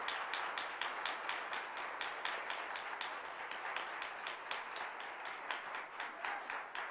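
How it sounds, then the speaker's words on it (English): An audience at a Black History Month oratorical revue in the Rochester City School District claps in a fairly even, rhythmic pattern, sounding somewhat distant and soft throughout. "give another round of applause for all of the talent that we have in the Rochester City School District"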